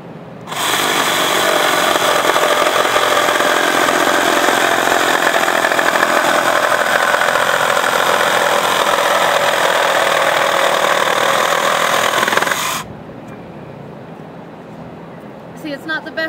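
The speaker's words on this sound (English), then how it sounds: "I've got it off the ground so the blade has enough clearance that it can safely cut through the wood" A reciprocating saw cuts through a piece of wood raised off the ground, a loud, steady, buzzing roar that runs unbroken for about twelve seconds before cutting off abruptly into quiet.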